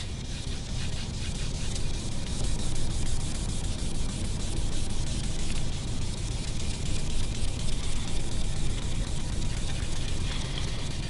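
Angelus dye being rubbed by hand into a quilted maple guitar top, a steady, dense dry rubbing and scrubbing that continues without pause for several seconds, close and even.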